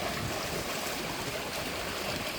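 Sea waves washing in at the shore, heard as a steady, broadband rushing wash that fills the whole short stretch at an even, moderate level with no voices.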